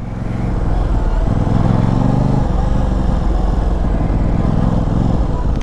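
Aprilia RS660 sport bike engine pulling hard through the gears on a New York street, a loud steady drone with rising harmonic sweeps as it climbs through the revs, close to the rider.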